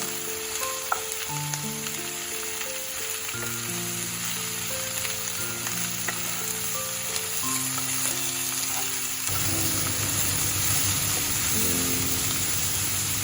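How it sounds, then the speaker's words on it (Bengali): Okra frying with turmeric and dried red chilli powder in a pan, giving a steady, continuous sizzle with light stirring. It is close and fairly loud throughout, and the crackle thickens in the last few seconds. "এবার এটাকে ভালো করে ভেজে নিতে হবে"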